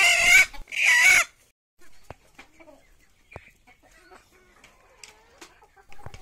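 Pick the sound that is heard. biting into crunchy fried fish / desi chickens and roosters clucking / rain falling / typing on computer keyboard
desi chickens and roosters clucking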